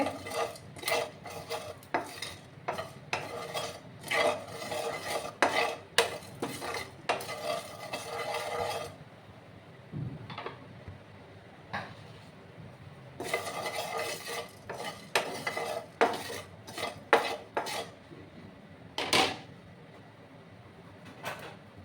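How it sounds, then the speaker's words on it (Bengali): Repeated metal scraping and clatter of spices being stirred and fried in a pan for a pumpkin dish, loud and close, with a brief quieter pause midway. "দেখো আমার মশলাটা ভাজা হয়ে গেছে"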